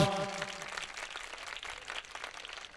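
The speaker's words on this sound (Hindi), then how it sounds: "जोर से और जोर से तालियां यीशु के लिए, जोरदार" Church congregation in Lahore applauds loudly for Jesus, a crowd of hands clapping in a dense wash right after a shouted exhortation from the front, with a brief voice at the very start and the clapping continuing alone.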